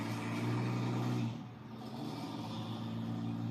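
A 2008 Dodge-style pickup with a 6.7 Cummins diesel does a boosted launch, a loud low engine roar that drops off after about a second into a quieter, steady rumble.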